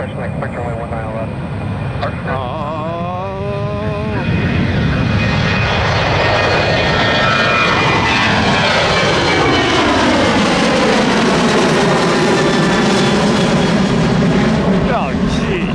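A Southwest airliner's jet engines roar and whine at Tampa International Airport, a loud steady rumble with rising and falling tones as it taxis, while voices talk over the radio.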